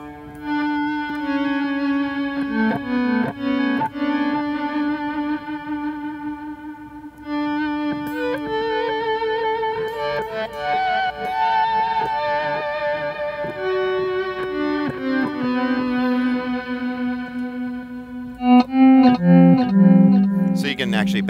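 An Electro-Harmonix Mono Synth guitar pedal plays sustained, distorted synth lines through a delay, its notes trailing into echoes, loud and continuous for the full stretch at a NAMM 2019 demo.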